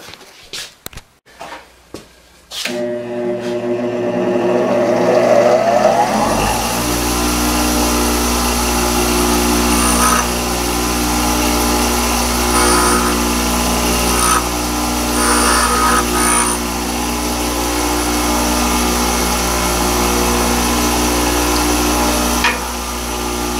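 A carbide lathe tool being ground on a bench grinder fitted with a tool rest and dressing fixture: a steady loud motor whine with grinding noise holding for about twenty seconds, preceded by a few brief knocks as the grinder spins up.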